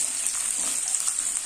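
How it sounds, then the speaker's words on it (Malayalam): Cashews and raisins frying in a pan over a medium flame, giving a steady, close sizzle with faint stirring crackle throughout, no voices. "ഒരു മീഡിയം ഫ്ലെയിമിൽ ഇട്ട് ഇത് വറുത്തെടുക്കാം."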